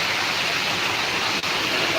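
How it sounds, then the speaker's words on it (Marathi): Water from a 2 HP motor pump pours off a terrace in a steady, loud, waterfall-like rush, close by and without a break. "बघा टेरेसवरतून कसं मोटरचं पाणी पडते असं पाणी पडते बघा दोन एच पीचं मोटरचं पाणी पडत आहे"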